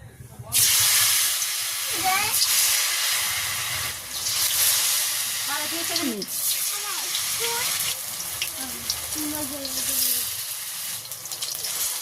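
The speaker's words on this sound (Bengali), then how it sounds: "তেল গরম হয়ে গেছে দিয়ে দিতেছি বড়া" Pumpkin flower fritters drop into hot oil in a village kitchen, setting off a loud, continuous sizzle and hiss with bubbling crackles, while a voice talks faintly underneath.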